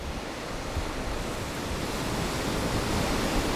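Sea waves wash onto a beach at night on Socotra island, a steady, continuous roar of surf that holds at even loudness and swells slightly toward the end, with no voices.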